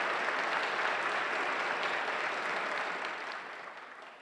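Warm audience applause at a civic club debate event, a dense, even roar of many hands clapping together that holds steady, then gradually thins and fades toward the end.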